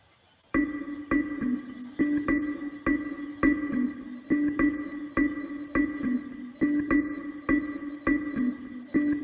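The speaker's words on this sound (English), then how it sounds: "So it's a kalimba loop again from Splice." A sliced kalimba loop played back through a sampler with pitch changes and stutter repeats plucked tines in a steady, even rhythm, bright and close, running continuously after a brief silent start.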